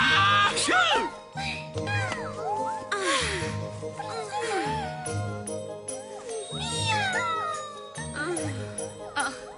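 Several cartoon cats meow repeatedly in a Polish-dubbed Winx Club episode, with overlapping rising and falling cries over a steady musical background and some light jingling.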